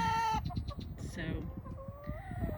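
Backyard chickens cluck and squawk up close among garden sounds, short bursts of bird calls overlapping a man's brief spoken word.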